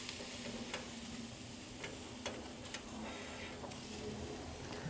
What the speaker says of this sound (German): 5 Minuten später werden die Saltimbocca einmal kurz gedreht